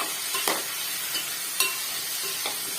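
Mushroom pieces fry in a pan, with a constant hiss of sizzling oil and a few distinct scrapes as a spatula stirs them through.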